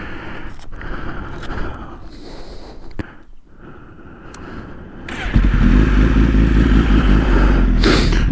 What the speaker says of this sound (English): we're going to turn the bike on. She is warm. I'm going to let you hear her